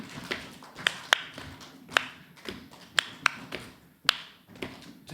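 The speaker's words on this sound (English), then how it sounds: "Stamp, clap, clap, stamp, clap." Rhythmic body percussion by the Tappy Lappy Quartet at Helmsley Arts Centre, a repeating stamp, clap, clap, stamp, clap pattern with sharp close claps and softer thuds, steady and even.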